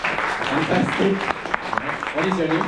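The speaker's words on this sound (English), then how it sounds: "Let's give her a round of applause." Applause from a workshop audience on public speaking evaluation, a steady broadband patter of clapping filling the room beneath a voice talking over it throughout.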